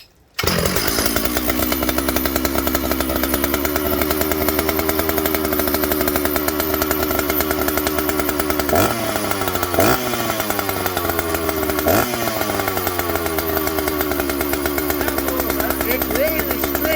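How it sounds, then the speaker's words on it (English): A Shindaiwa 757c chainsaw fitted with a new CDI box roars at wide open throttle, a loud, steady, buzzing whine with a few brief dips and revs near the end. "Ooh, chainsaw noises."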